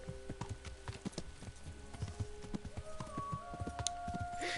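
Hooves of a horse clip-clop at a steady walking pace in the medieval video game Kingdom Come: Deliverance, a regular rhythm of soft thuds under faint background game music.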